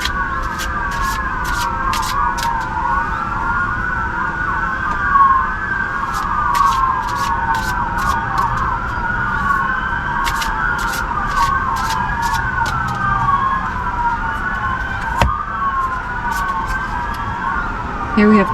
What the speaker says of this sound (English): The sirens have been going all day here.